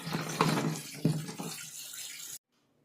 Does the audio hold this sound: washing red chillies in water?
yes